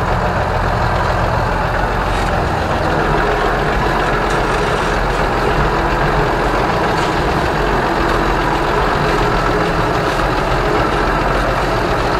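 Loud, continuous heavy diesel drone of an Ursus 1224 tractor engine held at low revs while pulling heavy harrows, a steady rumble without pause.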